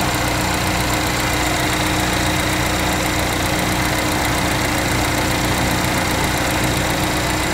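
A 2015 Chevy Equinox with a 2.4-liter four-cylinder EcoTec engine idles steadily and close by, a constant mid-pitched hum with a faint rhythmic knock running through it and no talk.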